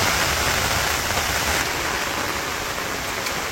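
Steady rain falls over a Bangladeshi village in the rainy season, a dense, even hiss of drops that holds at a constant level throughout with no voices.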